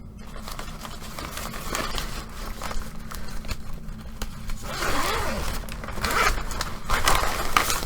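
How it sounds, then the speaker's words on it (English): A zipper on the pocket of a kids' sewing-kit bag is pulled in several scratchy runs, close up and growing louder toward the end, with no talk. "And it's got zipper pockets."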